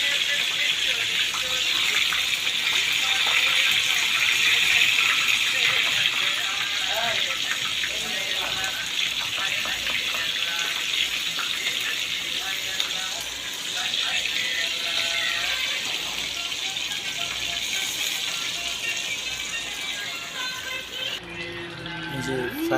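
Fish frying in a pan of hot oil, a steady dense sizzle and crackle that runs close and loud for the whole stretch, with a brief drop near the end.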